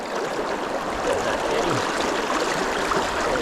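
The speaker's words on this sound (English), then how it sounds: "you can see this massive heavy current here" Heavy, fast river current rushing during high-water fly fishing for brown trout, a steady broadband wash of water running close and loud throughout with no break.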